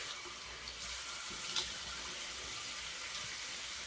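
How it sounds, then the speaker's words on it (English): Cold water runs and splashes from a tap into a sink as a continuous, even, close hiss with a brief splash partway through, and nobody speaks. "Cold water splash."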